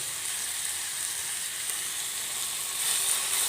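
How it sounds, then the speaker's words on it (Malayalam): Grated coconut fries with onions in a pan as a snack is cooked, giving a steady, close, bright sizzle that hisses without a break and swells slightly near the end. "അതൊന്ന് ചെറുതായിട്ടൊന്ന് ഫ്രൈ ആവണം"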